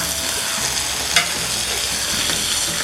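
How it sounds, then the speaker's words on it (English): Meat sears in a hot pan with a loud, close, continuous sizzle, and a single sharp clink sounds about midway. No one talks. "It needs to sear."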